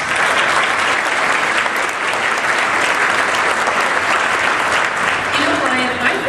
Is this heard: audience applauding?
yes